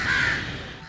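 A crow caws loudly and close after monsoon rain in Faisalabad, one long harsh call over a steady wash of outdoor background noise, with no voices.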